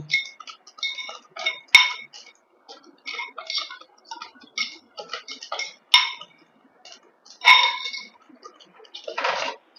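A spoon stirring mango halua in a pan after cornflour is added, with sharp clinking and scraping taps in irregular quick bursts, close and fairly loud, with no talk.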